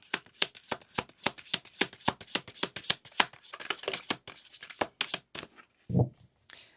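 Oracle cards are shuffled by hand in a rapid run of crisp riffling flicks with short pauses, close and fairly quiet, ending with a few softer taps and slides of the deck.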